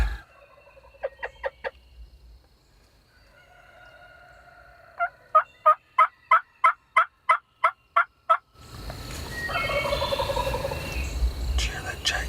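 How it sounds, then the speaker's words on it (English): A wild turkey jake gobbles during a spring turkey hunt, with a rapid rattling burst followed by a longer, louder run of evenly spaced gobbling notes, heard fairly near in an open outdoor setting before wind and rustling take over. "Cheer that Jake gobble to you."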